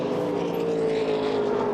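A Super Cheap Autos V8 touring car spins at turn 3 during a 2000 Shell Championship race, its engine a steady loud drone with a sustained tonal whine, no clear squeal or impact standing out.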